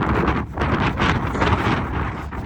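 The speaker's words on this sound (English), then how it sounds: "It's a little windy" Wind buffets the microphone in loud, uneven gusts, a rough rumbling roar that swells and eases throughout.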